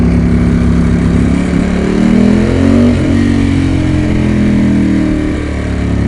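A Ducati 916 motorcycle engine drones loud and close, revving up and easing back in a steady, continuous roar with rising and falling pitch, with no voices over it.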